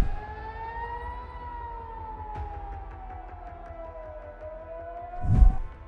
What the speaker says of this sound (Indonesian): Ibu kota Tel Aviv seketika langsung meraung-raung akibat sirine keamanan yang terus dibunyikan